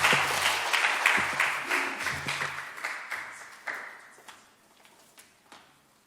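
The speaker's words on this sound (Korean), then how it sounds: "주님께 영광의 박수 올려드리겠습니다." A church congregation at a Korean Baptist Sunday worship service claps in praise, starting full with sharp individual claps and gradually thinning out and fading to scattered claps by the end.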